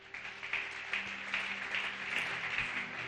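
Church congregation applauding in a French-language worship service, a soft, steady patter of clapping with rhythmic swells, fairly faint and distant.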